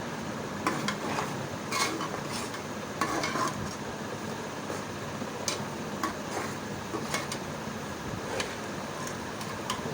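Beef goes into a pot of browned onions and is stirred, with a steady sizzle and scattered spoon scrapes and clinks against the metal, close by and without talk.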